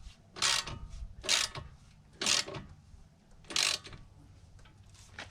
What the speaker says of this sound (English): Tightening it up a bit.